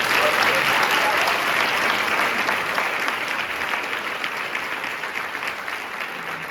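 Sustained, dense applause from an audience, steady and fairly loud, gradually easing slightly toward the end.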